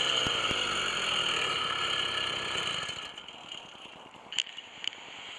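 An 80cc two-stroke engine on a motorized bicycle, just started after sitting unused for a few days, runs with a steady rattling drone that fades down partway through, leaving a quieter idle with a couple of sharp clicks near the end.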